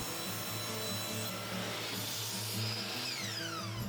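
A handsaw cuts blocks from a piece of wood scrap, a steady close rasping stroke running throughout with a faint whine near the end.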